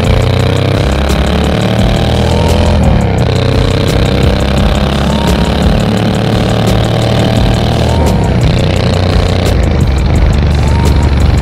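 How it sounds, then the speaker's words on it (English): Suzuki Boulevard C90T V-twin cruiser motorcycle fitted with Cobra exhaust pipes, idling with a deep, loud, steady rumble close by, broken by a few brief revs of the throttle. "I imagine they'll mistake the sound of the Boulevard for literal thunder, especially with these Cobra pipes installed."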